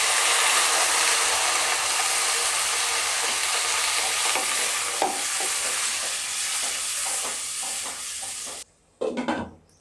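Loud, steady sizzling from a hot pan as water is added to masala for Chettinad chicken gravy, broken by intermittent scraping stir strokes, then a brief lull and a final clatter near the end.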